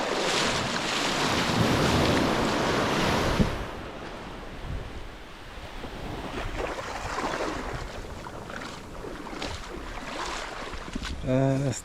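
Waves wash steadily onto a beach on Hiva Oa, with a broad surf hiss and gusts of wind buffeting the microphone.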